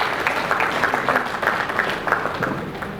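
Applause from a conference audience welcoming a panelist, steady dense clapping throughout at moderate loudness, with no speech over it.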